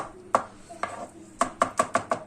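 Knife chopping vegetables for Alinazik kebab on a cutting board: a few spaced, sharp close chops, then a quick run of six evenly rhythmic strikes with no talk over them.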